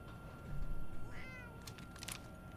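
A single cat meow rises briefly over a low background rumble, followed by a few short, bright clicks or taps.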